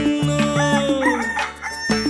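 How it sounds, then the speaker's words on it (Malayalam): A short, loud cock-a-doodle-doo from a cartoon rooster in a Malayalam children's nursery rhyme, sung over a steady plucked musical accompaniment. "കൂവുന്നു പുലരി വരും കുതുകത്താൽ പൂങ്കോഴി."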